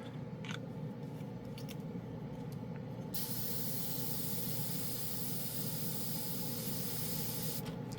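Dspiae no-wash airbrush spraying Tamiya paint through a 0.3 needle, a steady close airy hiss that runs unbroken, brightening after a few seconds and holding level to the end.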